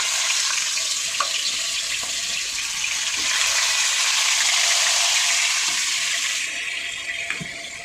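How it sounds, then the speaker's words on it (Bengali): Chicken pieces frying in hot oil in a wok give a steady, loud broadband sizzle and crackle with scattered pops, running close and continuous throughout with no talking. "চলো ফ্রেন্ডস, আগে চিকেনটাকে ভেজে নিই"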